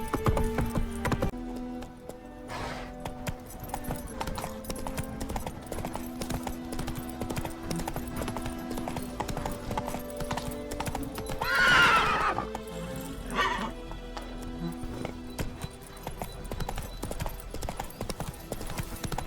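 Horse hooves clip-clopping at a gallop in The Witcher 3, with a loud whinny and neigh rising midway over game music and ambience.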